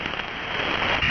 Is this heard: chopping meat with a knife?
no